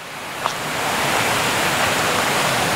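River flowing in front of a campsite at a nature camp in Perak, a loud, steady broadband rush of water heard alone.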